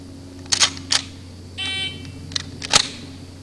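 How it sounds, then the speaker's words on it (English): Electronic shot timer on a shooting range gives a sustained start beep, with sharp clicks and mechanical snaps before and after it over a steady low background hum. "And the timer went off."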